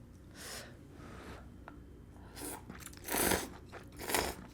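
Someone eats chashu pork Japanese instant ramen noodles close to the microphone, with bites, crunches and moist chewing in uneven bursts and audible breaths between mouthfuls.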